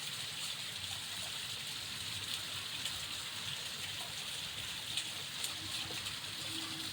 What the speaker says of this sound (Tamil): நாங்கள் அப்போ வரும்போது நல்லா மழை பெஞ்சிட்டு இருந்துச்சு